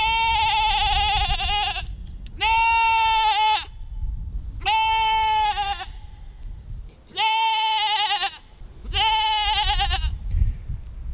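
A farm goat in heat bleats loudly and insistently, five long wavering cries in close succession with brief gaps between them, harsh and near, over faint background noise.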